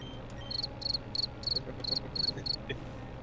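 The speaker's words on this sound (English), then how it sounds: "Got crickets." A soundboard cricket chirp effect plays seven evenly spaced, high, shrill chirp bursts over a faint background hum, with no talking.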